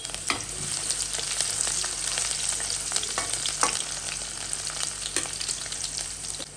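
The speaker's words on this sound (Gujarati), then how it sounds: "આપણી જે સમારેલી ડુંગળી છે સૌથી પહેલાં એને ઉમેરી દઈએ અને એને થોડી વાર માટે સાંતળવા દઈશું" Chopped onion with cumin seeds sautéing in hot oil for a Rajasthani okra and onion curry, a steady close sizzle broken by sharper crackles and spatters, with a low hum underneath and no voices.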